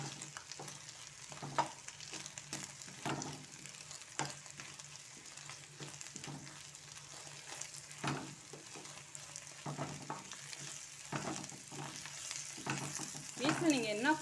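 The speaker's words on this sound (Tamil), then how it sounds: "இப்போ இதோட நான் கொத்து பிச்சு போட்டு வச்சுருக்கேன் பாருங்கள், புரோட்டாவை இதை சேர்த்துடலாம்." Kothu parotta, shredded parotta mixed with egg, frying on a griddle in road-stall style, a soft steady sizzle with scattered scraping and clinking from stirring, fairly quiet and without talk.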